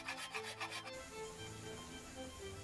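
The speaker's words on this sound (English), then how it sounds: "I'm now going to use a half round cabinet file to clean up the bandsaw cuts" A half round cabinet file rasps against wood in a quick run of rhythmic strokes, cleaning up rough bandsaw cuts on a wooden jack plane, then stops, leaving a faint hum.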